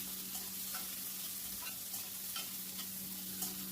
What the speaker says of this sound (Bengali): এবারে আমি যে পেঁয়াজটা কেটে রেখেছিলাম সেই পেঁয়াজটা দিয়ে দিলাম, দিয়ে এবার একটু সব কিছু ভালো করে মিশিয়ে নিচ্ছি।